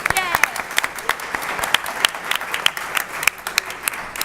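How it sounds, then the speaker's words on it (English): A room full of people claps steadily in sustained applause, with a few louder individual claps standing out, fairly close. "big round of applause for yourselves"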